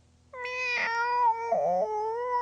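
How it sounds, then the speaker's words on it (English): A cat stuck up a tree lets out a long, drawn-out wailing meow followed by a second lower, shorter cry, close and clear against quiet. "Meow, wailed Rosa"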